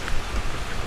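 Steady rain falls on an apricot blossom bonsai garden, a dense, even hiss of drops on surfaces that carries on without pause and fills the whole moment.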